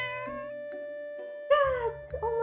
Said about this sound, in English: Oh my god, there's a cat.